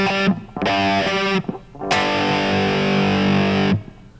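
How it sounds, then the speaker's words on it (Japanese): Distorted electric guitar power chords of root, fifth and added octave chug in short bursts, then one chord rings out long and loud before cutting off. "イントロは基本的に全部、パワーコードですね。"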